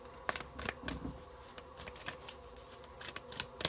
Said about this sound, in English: I want to just free shuffle.